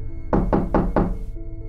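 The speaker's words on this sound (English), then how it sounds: "only to wake up to the knocking again." Four firm knocks on a door in the middle of the night, evenly spaced and close, sounding alone over a low hum.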